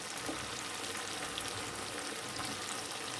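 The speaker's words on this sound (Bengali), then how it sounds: "ভালো করে কষে নিচ্ছি। এই সময় এতে এঁচড়গুলো দিয়ে দিচ্ছি।" Spice paste frying and being stirred in a pan with green jackfruit pieces for a vegetarian jackfruit biryani, a steady dense sizzle that holds throughout with no talk.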